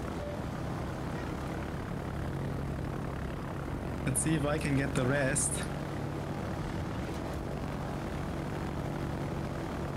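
Aircraft squadron engines in the World of Warships naval battle game, a steady propeller drone throughout, while someone talks over it through most of the stretch.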